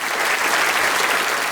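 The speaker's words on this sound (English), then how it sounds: "MPs applauded the Cox family in the gallery above their heads" MPs in the House of Commons chamber applauding the Cox family seated in the gallery, a dense, sustained clapping from many hands, loud and continuous with no voices.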